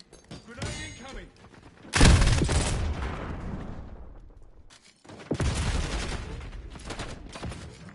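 A grenade explosion in Call of Duty Black Ops 6, a sudden loud blast at about two seconds with a long decaying rumble, followed by another burst of heavy gunfire and booms later in a busy firefight.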